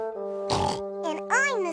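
A voice imitates a pig in a cartoon scene about little pigs: a rough grunting oink, then a couple of voiced squealing oinks over a steady sustained musical tone.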